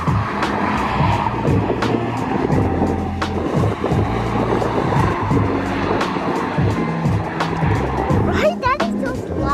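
A Nissan 350Z drifting on a track, tires squealing in repeated bursts over a busy engine and road rumble, with someone talking throughout.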